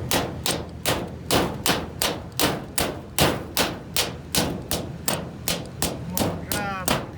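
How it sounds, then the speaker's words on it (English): A drive pin being hammered into a Trane dual fuel package unit, struck with an improvised tool rather than a hammer: a steady series of about eighteen sharp, close metallic blows at an even rhythm, loud and with no voices. "I'm going to drive the pin in"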